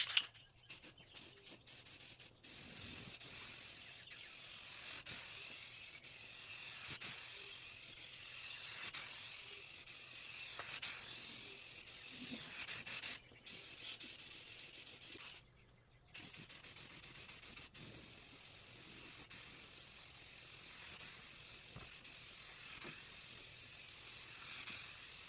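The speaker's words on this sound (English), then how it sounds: "start by spraying some Oasis blue on this test fender" A close, steady hiss of Rust-Oleum Oasis Blue aerosol spray paint on a test fender runs for long stretches, briefly stopping and restarting.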